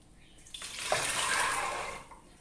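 Water pours briefly into soaked black chickpeas in a pressure cooker, a close gushing splash that swells then fades over about two seconds.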